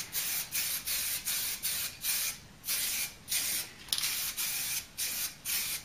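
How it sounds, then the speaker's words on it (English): Short, repeated bursts from an aerosol can spraying a matte fibrous coating during a Ford Cortina Mk3 restoration, a steady hissing rhythm of about a dozen close sprays with brief gaps. "It's one of those you can just spray liberally."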